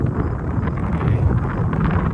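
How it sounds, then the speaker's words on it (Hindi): Strong cold wind blowing near the sea at a truck loading site, a steady loud rumbling buffet against the microphone with no talk. "बहुत तेज हवा चल रही है ठंडी।"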